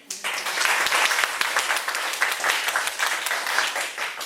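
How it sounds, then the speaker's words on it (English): An audience claps at a Toastmasters club's third anniversary gathering, producing a dense, lively burst of applause from a modest crowd that runs steadily for about four seconds. "let's give them a big applause again"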